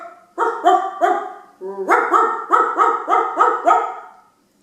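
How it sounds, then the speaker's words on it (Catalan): Dog barking in a quick series of close, loud, clipped barks, three, then a pause, then about six more in steady rhythm. "This is a dog."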